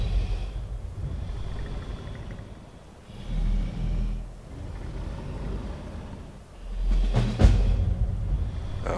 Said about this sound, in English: Okay, you can stop breathing now.